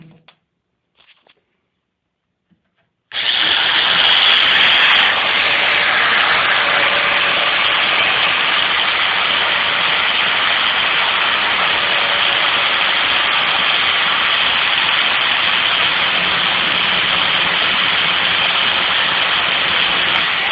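A tungsten electrode for TIG welding is ground to a point on a grinder that starts abruptly after a few seconds of near-silence, then whirs loudly and steadily for the rest of the clip.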